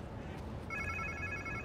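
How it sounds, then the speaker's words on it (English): In Marvel's Spider-Man 2, a phone rings with a bright repeating electronic trill over steady background game ambience, close and clear after a brief quiet start. "Sounds like somebody's phone."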